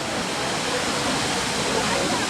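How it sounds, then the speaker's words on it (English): A 640-foot waterfall roars steadily as heard from a bridge below it, a loud, continuous broadband rush of falling water with no break. "this is what the waterfalls looks like from the bridge"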